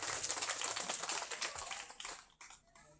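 Audience at an education seminar clapping for the speaker, a dense patter of many hands heard from a distance, fading out and thinning to a few scattered claps near the end.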